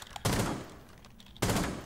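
Gunfire in Rainbow Six Siege on PlayStation 5: two separate loud bursts of shots, each a dense, booming volley, with a quieter stretch between them.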